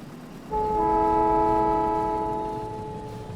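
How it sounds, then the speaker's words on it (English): A train in the Factorio video game sounds a sustained multi-tone horn chord that starts abruptly and holds for about three seconds before easing off, over a low rumbling bed. "Is the train ready now? Looks like it. Still loading, but let's see how it works."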